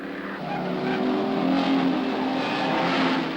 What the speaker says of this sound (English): Bond pulls out to easily gather in Moffat and Seaton and takes the lead as he negotiates the left-hander into pit straight